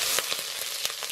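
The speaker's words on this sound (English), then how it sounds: "I'm frying off nicely now." Steady, bright sizzle of onion, garlic and chilli frying in a hot pan, with faint crackles and stirring scrapes, close and continuous with no talking.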